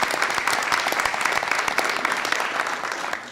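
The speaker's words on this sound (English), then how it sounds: "Let's give him a round of applause." Audience at a university system board of regents meeting applauds steadily for a few seconds, a dense, even patter of many hands that tapers slightly at the end.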